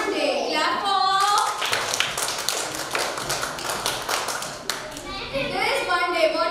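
A class of children claps together in a fast, steady burst of many hands for several seconds, with children's voices talking before and after.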